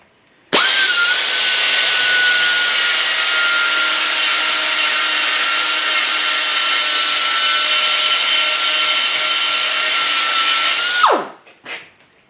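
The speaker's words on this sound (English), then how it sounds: "I've got a little die grinder here. Air die grinder." An air die grinder whines at a steady high pitch for about ten seconds while cutting into a Ford V8 thermostat housing, loud and close, then spins down and stops abruptly.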